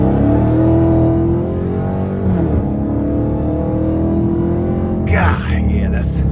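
A 2023 Dodge Charger Hellcat Widebody accelerates hard from inside the car, its loud supercharged engine roaring continuously with a strong, rising harmonic drone. A brief higher rush of noise comes near the end.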